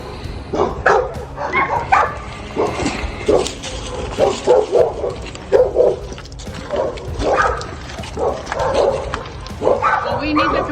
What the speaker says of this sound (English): there's another dog over there